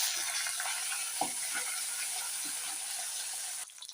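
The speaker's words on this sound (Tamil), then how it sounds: "இப்போ வந்து இந்த கருவேப்பிலையை போட்டு" Curry leaves sizzle and crackle in hot oil with fried chana dal and dried red chillies, a steady close hiss with small pops that cuts off abruptly near the end.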